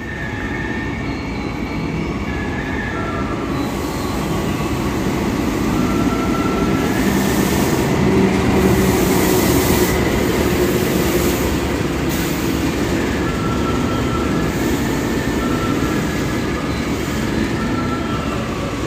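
An extra Kutojaya Selatan economy train rolls in on track 5 of a station platform with a loud, steady rumble of wheels and cars, faint squeals and clatter, no talking.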